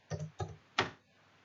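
Three sharp key taps on a computer keyboard, close and quiet, spaced unevenly with the last one loudest, then a short silence.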